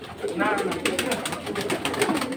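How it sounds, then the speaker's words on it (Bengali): A flock of pigeons on a rooftop begins lifting off, with soft coos and fluttering wing beats close by, mixed under a voice talking throughout. "এই যে কিছু কবুতর মাত্র উঠতেছে, কিছু কবুতর এখনো বামে বসে আছে, উঠতেছে"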